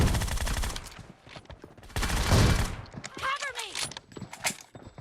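PUBG Mobile gunfire cracks out in rapid bursts and scattered single shots at close range, with someone talking over parts of the exchange.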